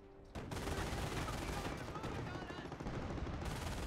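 An MG42 machine gun in the Company of Heroes video game rattles in a sustained, dense burst of rapid fire that starts abruptly and stays loud and close for several seconds.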